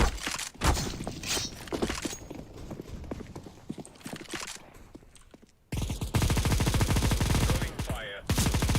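Negev machine gun in Counter-Strike: Global Offensive fires in dense, rapid bursts, loud and close, with a sustained heavy stretch of continuous fire near the end and some voice chatter mixed in.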